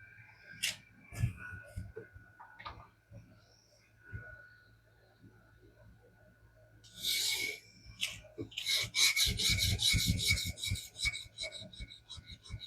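An EDC knife is sharpened on a 1200-grit Ruixin resin-bonded diamond stone, giving scattered gritty scraping strokes that build into a dense run of rapid, close rasping passes.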